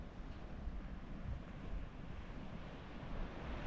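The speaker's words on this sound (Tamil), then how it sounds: "இதுதான் வேம்பாரில் இருக்கக்கூடிய கடற்கரை." Surf washing onto the deserted Vembar beach near Sayalkudi in Tamil Nadu, a steady broadband roar of waves with wind buffeting the microphone throughout, no voices.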